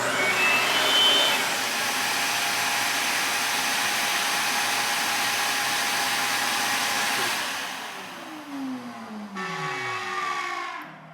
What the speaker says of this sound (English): after you hit the trigger of the saw, it fires the vacuum